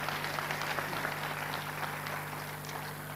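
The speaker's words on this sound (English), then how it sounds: "Another round of applause for the ambassador" An audience at a university convocation ceremony applauds the ambassador with steady, sustained clapping that fills the hall at an even level.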